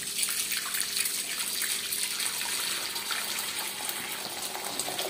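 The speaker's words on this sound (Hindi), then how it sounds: "दूध हम इसमें डाल रहे हैं अभी" Lukewarm milk pours steadily into a bowl for homemade yogurt, a continuous bright splashing and trickling stream that stays close and fairly even throughout, with no talking.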